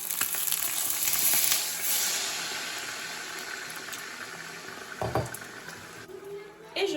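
Water poured into a hot pan of braising endives sets off a steady sizzle and hiss, loudest at the start and easing over several seconds, with a few clatters of pan handling.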